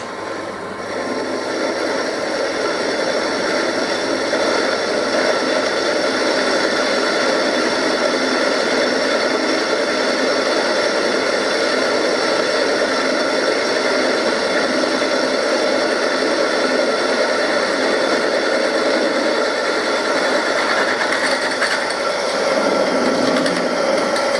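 A drill bores holes through a workpiece with cutting fluid on the bit, giving a steady, loud, high whirring drone that runs for the whole span with no pauses and no voices.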